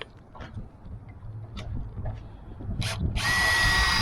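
A power drill with a bit bores into a pin pocket being notched, whining and grinding steadily and building louder toward the end, with no talking over it.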